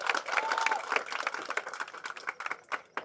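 Festival song stage event with an audience clapping loudly and steadily, dense overlapping applause throughout with a brief tonal voice-like trace early on.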